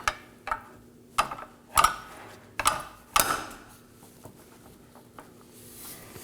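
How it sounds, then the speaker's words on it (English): A pry bar works a drive shaft out of the rear differential of a 2018-2024 Chevrolet Equinox 1.5L, giving a series of sharp metallic clicks and knocks at uneven intervals, close and loud, then a few softer taps. "I'll be using a pry bar and I'll just pry it out."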